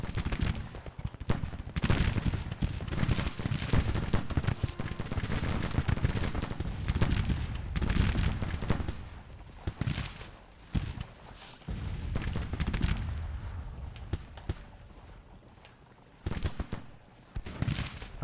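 Artillery and gunfire in an American Civil War-era strategy game pound in dense, repeated booms and crackling volleys, loud and continuous with brief lulls before the barrage resumes.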